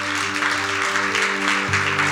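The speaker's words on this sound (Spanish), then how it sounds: "Así que denle un fuerte aplauso al Señor." Steady, continuous applause from a church congregation, broad and sustained throughout, with a sustained musical tone underneath.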